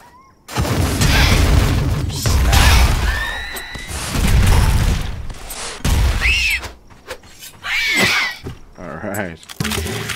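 Rockets firing and exploding in Dysmantle, several loud booms and crashing bursts in quick succession with whooshing and ringing debris, while a voice talks over the blasts.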